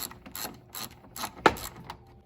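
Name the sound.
ratchet loosening headlight bolts on a 2012 Chrysler Town and Country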